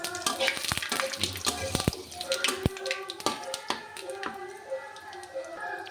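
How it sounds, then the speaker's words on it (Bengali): Bengali five-spice seeds crackle and pop sharply in hot oil, a dense run of spitting clicks over a steady frying hiss, close by. "এবার আমি পাঁচ ফোড়ন দিয়ে দিলাম"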